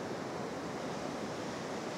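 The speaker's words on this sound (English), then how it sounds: "apart from the roar, those beautiful waves." Ocean waves roaring on Bamburgh beach in England, a steady, dense broadband wash of surf with no distinct breaks, sounding continuous and fairly loud.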